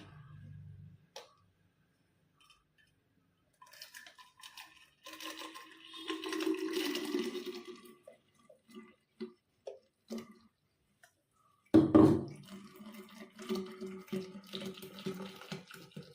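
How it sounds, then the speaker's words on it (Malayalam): Blended milk and lemon drink poured into a jar, a faint intermittent liquid stream with soft splashes, gaps of near silence and a louder burst toward the end. "ഇനി ഈ ജാറിലേക്കൊന്ന് ഒഴിക്കാം"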